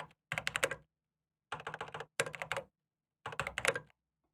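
Typing on a computer keyboard comes in four quick bursts of clicky keystrokes, close and crisp, with short silent pauses between each flurry and no voices.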